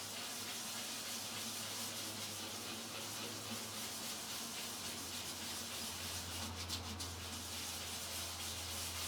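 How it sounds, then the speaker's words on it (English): Continuous soft rubbing hiss of 220-grit sandpaper lightly sanding a painted guitar body, steady and even, with a low background hum throughout. "we're just going to give this a little light sanding with this seems to be about 220 grit"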